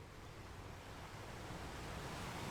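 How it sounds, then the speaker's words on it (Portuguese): Sea waves wash in a soft, continuous hiss of surf, faint and distant, with no voices and no distinct breaks between swells. "Apenas volte para o som do mar. Volte para as ondas."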